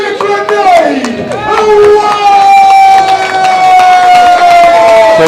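A darts crowd at a workingmen's club cheers and shouts loudly as a 15-year-old finalist is introduced, with a long sustained roar and whistles building throughout.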